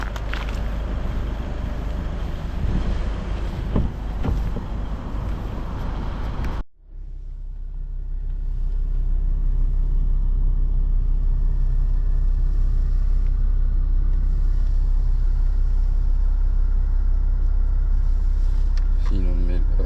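A 2016 Skoda Octavia 1.6 TDI on a test drive gives a steady low engine and road rumble from inside the cabin after a brief loud opening, while someone talks now and then.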